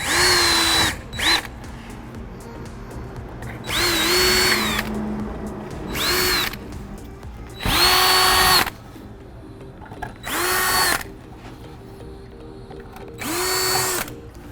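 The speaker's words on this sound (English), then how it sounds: "So a 3/16 drill bit. I'm just gonna do a few holes just to ream the hole" Power drill with a 3/16 bit boring holes through a composite front splitter on a C7 Corvette ZR1 to prepare for rivets, in six or seven separate bursts of whining spin, each lasting about a second, with brief pauses between.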